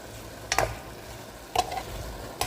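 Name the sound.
stirring chicken in a sizzling pan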